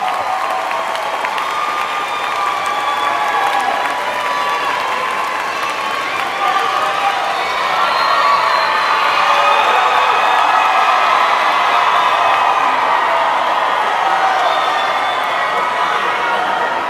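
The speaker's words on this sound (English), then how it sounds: "let's give all of these folks a round of applause for being here tonight." At a 2017 high school commencement, the audience claps and cheers loudly, a thick sustained roar of applause with whoops and shouting voices that swells midway and carries on for many seconds.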